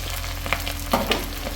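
Chopped green chilies dropped into hot oil in a small pan, crackling and sizzling close up, with a few sharp spits and stirring scrapes.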